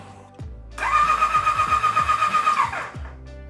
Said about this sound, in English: Let's see if we can get it to crank over